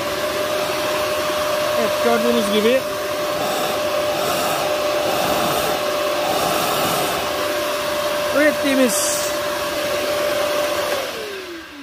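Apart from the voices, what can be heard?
vacuum cleaner running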